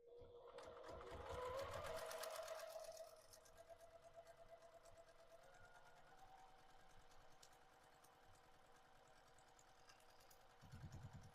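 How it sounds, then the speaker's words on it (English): A sewing machine runs steadily, stitching foundation paper-pieced quilt pieces together, loud at first and then a lighter continuous whir for several seconds, heard up close with no talk over it. "Let's go ahead and sew that together."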